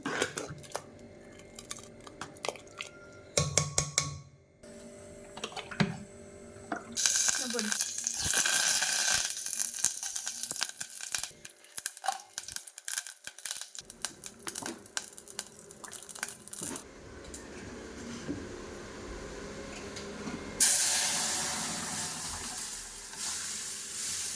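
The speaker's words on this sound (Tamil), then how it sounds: "அப்புறம் இதெல்லாம் தாளிக்க போகிறோம்." Tempering spices sizzle and crackle in hot oil in bursts amid clinks of utensils and pans, with some running water and short stretches of quiet.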